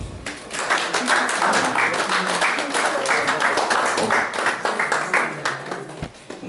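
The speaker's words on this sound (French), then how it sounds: "je vous en prie d'applaudisser pour vous-même" Crowd applause at a 60th surprise birthday party in Washington, a dense, steady clapping from many hands that stays loud throughout and trails off near the end.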